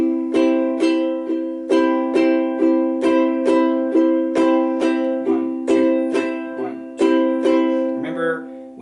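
A ukulele plays a waltz pattern of three down strums per bar, a softer thumb strum on the first beat followed by two brighter fingernail strums, ringing chords at a slow, even pulse with no talking.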